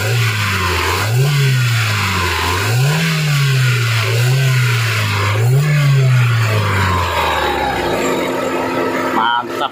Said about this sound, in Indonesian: kita sekarang tes dengan kita gaspol